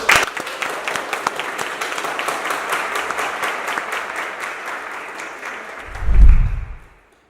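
An audience at a live stage show claps loudly and steadily for a dancer. The dense, continuous applause carries on for several seconds, then swells briefly before fading out.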